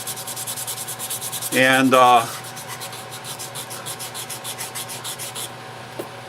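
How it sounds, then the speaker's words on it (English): A utility knife handle is hand-sanded with 120 grit sandpaper in steady, rapid back-and-forth strokes close to the listener, with one louder, harsher burst of rubbing partway through. A single word is spoken. "I'm using 120 grit sandpaper right now"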